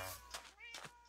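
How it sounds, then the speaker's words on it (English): Cats meowing in a video game, a few brief faint meows in quick succession, very quiet. "It's a lot of cats."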